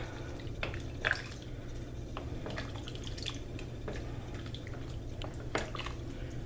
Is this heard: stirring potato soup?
yes